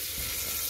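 Meat sizzles steadily in a pan over a low gas flame, an even close hiss with no break.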